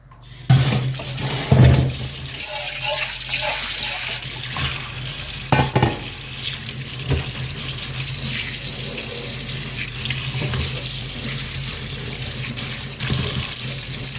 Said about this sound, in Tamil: இப்போ பார்த்தீங்கன்னா வெண்டைக்காயை நல்லா கழுவிக்கிடலாம்